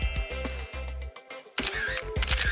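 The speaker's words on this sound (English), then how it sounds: "Wanna take a selfie with me?" A camera shutter snaps while a selfie is taken, several sharp mechanical clicks in quick succession, then a louder burst of brighter clicks near the end, no speech.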